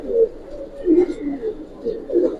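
Close, steady cooing from a Palla-line giribaz pigeon: low, throaty phrases come in several rolling swells with short gaps between them.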